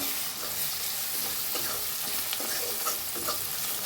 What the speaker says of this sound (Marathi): आता घालूया आपण हळद, अर्धा चमचा हळद, धनिया पावडर 1 चमचा, लाल तिखट 1 चमचा, हलवून घेऊया